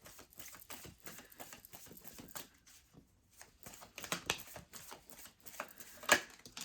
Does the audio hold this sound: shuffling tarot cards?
yes